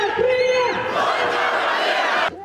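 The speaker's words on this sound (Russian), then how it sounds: "болельщики «Крыльев» шумовой волной приветствовали новичков команды" Krylia Sovetov football fans in Samara roar and chant together, a loud, sustained crowd noise with raised voices that holds steady until it cuts off abruptly.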